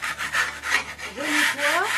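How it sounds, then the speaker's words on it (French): A tool scrapes along the edges of a decorative plaster coating on aerated concrete (Siporex) in short back-and-forth rasping strokes, close and rhythmic, ending with a faint squeak. "de gratter les bords pour pas qu'il y ait de surépaisseur qui pourrait nous embêter après au passage de l'enduit"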